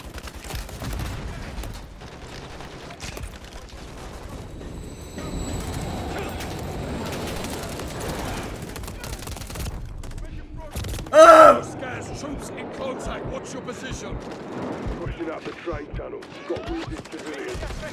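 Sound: burst rifle gunfire in Modern Warfare 3 video game

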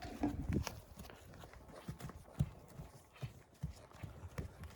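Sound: horse hooves clip-clopping while walking

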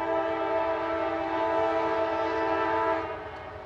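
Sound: pair of CSX AC44CW diesel locomotives running on tracks

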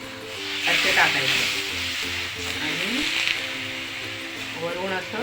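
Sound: thalipeeth frying in oil on a griddle

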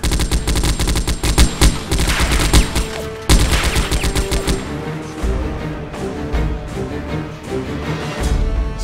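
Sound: machine gun fire

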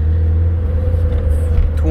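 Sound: car engine running while driving

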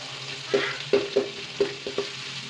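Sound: beans frying and being stirred in a pan

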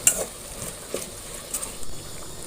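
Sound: frogs being stir-fried in a pan

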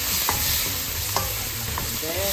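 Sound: sautéing and stirring tomato and squash in a pan

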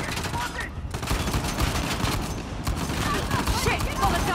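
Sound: gunfire from the video game Uncharted: The Lost Legacy

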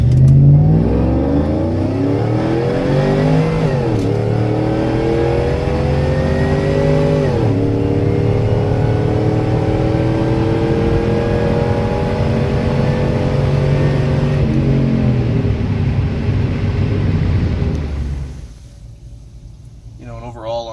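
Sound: GMC Denali with LSA supercharger accelerating from a stop

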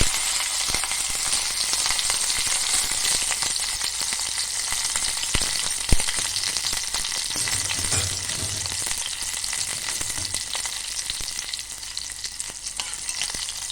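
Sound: chili and cumin tempering sizzling in hot oil

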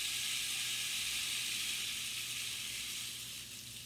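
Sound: rain stick being played, sounding like rain

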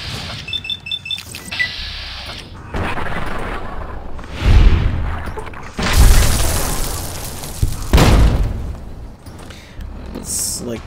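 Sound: exploding ants in video game Fallout New Vegas

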